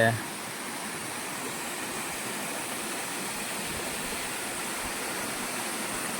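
Nazarmata waterfall near Shivrajpur thunders as a steady, loud, unbroken roar of falling water close by that fills the whole scene.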